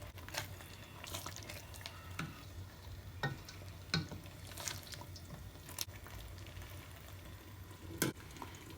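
Garlic and ginger frying in olive oil for Nigerian party jollof rice, a soft, quiet sizzle with occasional stirring clicks and scrapes at close range, no talking.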